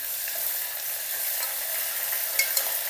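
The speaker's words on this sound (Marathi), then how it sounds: "अद्रक लसूण लालसर होईपर्यंत परतायचं।" Ginger garlic paste with whole spices frying in hot oil in a cooker for a black-masala mutton curry: a steady soft sizzle with a few brief crackles and stirring scrapes near the end.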